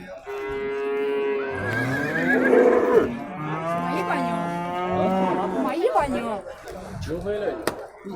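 Cattle low and moo at the Tokmok livestock market, where cows are being loaded onto a truck; a long, loud moo rises over steady crowd chatter and nearby animal calls, with people talking throughout.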